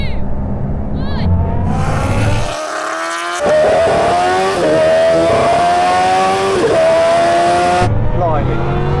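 Bugatti Chiron hypercar racing Kawasaki H2R and Ducati Panigale superbikes in a rolling half-mile drag race from 50 mph, loud engines rising in pitch through gear changes, with people talking over the roar.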